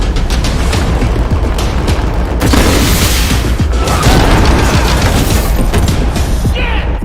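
A rocket explosion effect in an animation: a loud, continuous roar of booms and bursts, with one heavier blast hitting partway through and the noise staying thick to the end.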